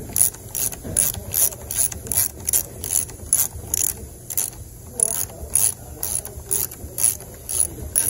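T27 driver snugging down engine mount hardware on a Makita M4 concrete saw, giving a steady run of close ratcheting clicks in quick repeated bursts, no talk.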